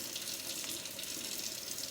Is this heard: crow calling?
no